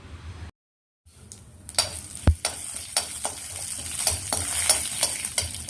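Small sharp pops and crackles over a steady sizzle of hot oil, like mustard seeds spluttering in a pan, close and fairly busy.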